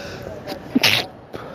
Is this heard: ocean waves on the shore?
no